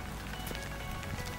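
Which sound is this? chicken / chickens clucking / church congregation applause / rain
rain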